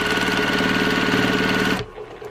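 A sewing machine stitches quilt binding in a fast, steady mechanical whir that runs loud and continuous, then stops abruptly near the end.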